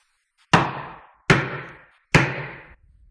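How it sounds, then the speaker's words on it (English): Three firm knocks on an apartment door in Moscow, evenly spaced about a second apart, loud and close with short ringing decays and no voices. "when I heard a knock on the door."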